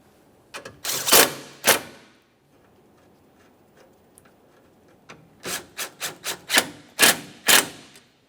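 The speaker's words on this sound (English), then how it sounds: "start in the 12mm headed mounting bolts and snug them up." A ratchet snugs up 12mm headed mounting bolts on the radiator support brackets of a 2014-2018 Toyota Corolla, with bursts of quick close clicking and rasping separated by a quiet pause.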